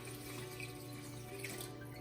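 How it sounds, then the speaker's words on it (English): Water from a kitchen tap streams into a cooking pot for seafood stock, a steady, soft, close rushing flow that holds even throughout without any talk. "So I'm just gonna keep adding more water in."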